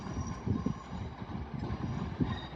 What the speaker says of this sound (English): I believe this is a 11 car Pendolino.